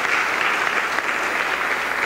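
A church congregation claps steadily during a Sunday service, a dense, even wash of applause from many hands that holds at full strength throughout without any voice on top.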